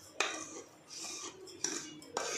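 Cooled rava for rava idli is tipped into a bowl, with three or four sharp metal utensil clinks separated by soft scraping and shuffling, quiet and close.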